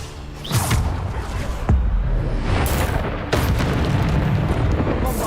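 Heavy booming blasts from Bombarda spells in the Hogwarts Legacy video game on Xbox Series X, several deep explosions at about half a second, 1.7 and 3.3 seconds over continuous rumbling game noise.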